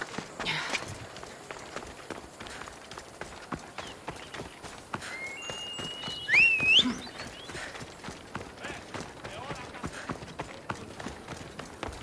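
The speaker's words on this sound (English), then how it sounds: "Look how long this horse just takes to catch up to me." Quick rhythmic hoofbeats clatter steadily from a horse galloping in the video game Assassin's Creed Odyssey, with a brief whinny partway through.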